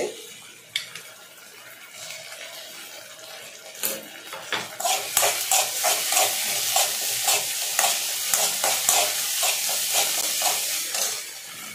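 Tomato and ginger garlic paste are sautéed in a pan for rava kichadi. After a quieter start, a busy sizzle builds with rapid, rhythmic spatula scrapes against the pan.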